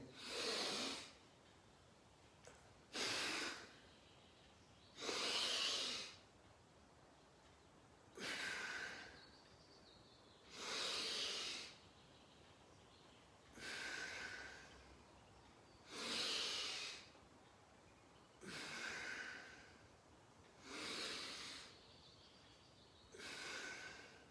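Slow, deep yoga breathing, with about ten evenly spaced airy inhales and exhales, each a few seconds long, close and soft against a quiet background.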